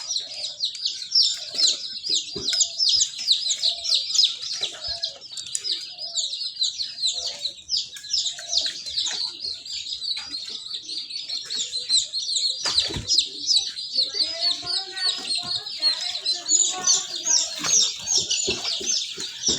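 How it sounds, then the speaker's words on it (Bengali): Caged quails keep up a dense, busy stream of high chirps and calls close by, with occasional rustles and knocks against the cage as the birds move about. "দেখুন ওই যে কোয়েল পাখিটা রয়েছে"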